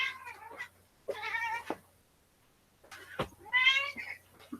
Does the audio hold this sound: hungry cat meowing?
yes